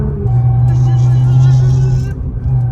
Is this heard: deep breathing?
no